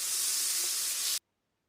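Water hits a hot pan of chicken shawarma with a loud, steady hiss of sizzling steam that stops abruptly after about a second, with no voices.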